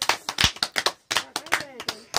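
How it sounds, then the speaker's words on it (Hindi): Group of children clapping for a young performer at a school gathering, a brief scattered burst of uneven claps close by, mixed with talking voices. "ताली बजाओ इसके लिए भी"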